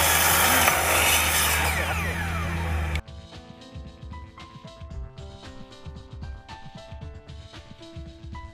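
Power saw cutting a wooden decking board at a 45-degree bevel: a loud, steady rasping cut for about three seconds, then stops abruptly, leaving quieter tonal hums and knocks.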